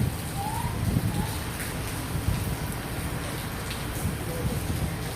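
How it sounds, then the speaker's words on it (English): Rain falling outdoors in Fort Lauderdale, Florida, a steady hiss of drops on surfaces with a few louder patters and faint birds in the background, continuous and moderately close. "So it's raining, but it feels good as hell out here."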